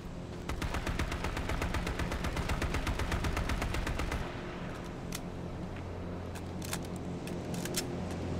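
Automatic weapon fire sprays in the H1Z1 battle royale, a fast even stream of rapid shots for about four seconds, then scattered separate bursts and single cracks further off.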